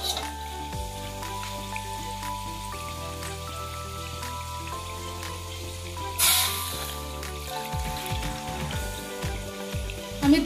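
Dudh-gokul pitha fry in hot oil with a soft, continuous crackle and scattered popping drips, heard under steady background music, with a brief louder burst near the middle.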